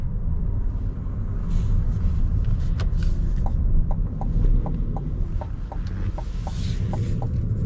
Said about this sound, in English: Gonna let this semi-truck do their thing.